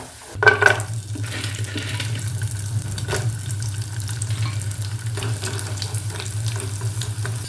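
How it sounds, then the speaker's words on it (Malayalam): Tapioca kondattam dropped into hot oil in a kadai, an abrupt splash and crackle followed by a steady, close sizzle of frying that continues with soft stirring clatters. "ഒരു കടായിൽ കുറച്ച് എണ്ണ ഒഴിച്ച് കൊടുത്തിട്ടുണ്ട് കുറേശ്ശായിട്ട് അതിലേക്ക് ഇടാം"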